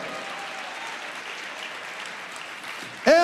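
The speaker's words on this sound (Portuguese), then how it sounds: "E dá um forte aplauso ao Senhor." Church congregation applauding continuously for about three seconds, a wash of many hands clapping, cut off at the end by a loud amplified voice.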